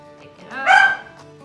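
A dog gives a single short bark close by, a brief sharp yelp in an otherwise quiet room.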